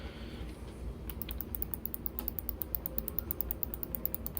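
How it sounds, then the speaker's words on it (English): Rapid, steady clicking of a computer mouse close to the mic, a quick run of small sharp clicks over a low background hum. "that mouse click"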